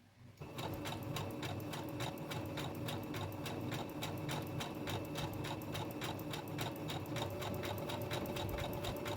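A sewing machine running steadily for about nine seconds on a button-like stitch, with a fast, even mechanical rattle and rhythmic ticking, close and continuous.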